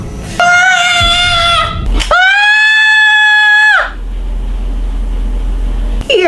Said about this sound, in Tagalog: Anong sinisigaw-sigaw mo?